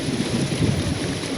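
Heavy rain pours steadily during a severe thunderstorm at Atlanta's Hartsfield-Jackson airport, with a deep rumble of thunder rolling underneath the constant loud downpour; no voices.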